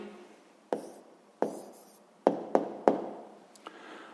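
Pen or chalk writing an answer by hand, a handful of sharp taps and short scratchy strokes spaced irregularly, close and fairly quiet, no voices.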